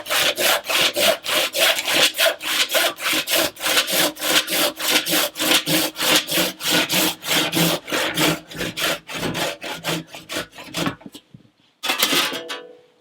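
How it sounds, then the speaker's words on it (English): A hand saw rasps steadily through solid horn in rapid, rhythmic back-and-forth strokes, loud and close, with the pace slowing before a short pause and a final few strokes. "You can feel the change of the sound of the saw."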